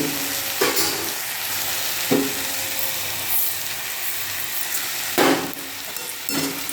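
Leftover cooked rice sizzles in a hot pan as a spatula stirs and scrapes it, the steady frying hiss broken by a few loud knocks and scrapes against the metal.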